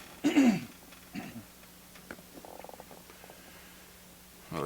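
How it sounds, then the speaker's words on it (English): A man with a bad cold clears his throat in a quiet room, one rough burst followed by a few softer catches and a faint hum. "Gotta clear my throat."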